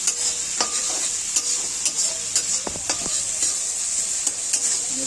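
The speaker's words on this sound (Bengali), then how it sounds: "এই যে আলু ভাজা হচ্ছে" Potatoes fry in hot oil with a constant sizzle, broken by repeated clinking and scraping of a spatula stirring the pan, close and clear with no talk.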